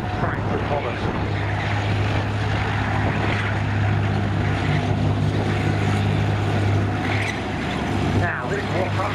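Tracked reconnaissance vehicle in the Tankfest arena, a steady loud engine drone with a low rumbling hum throughout, with a commentator's voice over the public address.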